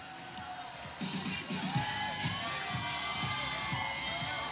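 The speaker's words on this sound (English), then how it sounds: "We heard some elated screaming." A youth community contingent at a Pride parade screams and cheers elatedly, a dense crowd roar with shrill whoops and children's shouts rising and falling continuously outdoors.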